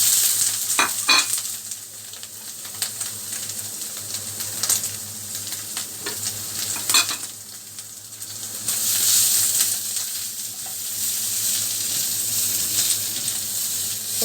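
Preserved turnip frying in a pan, a steady sizzle and hiss with scattered sharp scrapes and taps from stirring, swelling louder toward the end.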